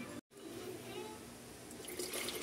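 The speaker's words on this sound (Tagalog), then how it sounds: "Lagyan na natin ng tubig." Water pours steadily from a tap or jug onto squeezed lemons in a container, a continuous close splashing rush that stays fairly faint, broken by one brief gap near the start.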